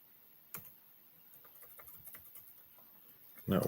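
Scattered, quiet clicks of typing on a computer keyboard patter irregularly in a hushed room, ending in a louder clatter.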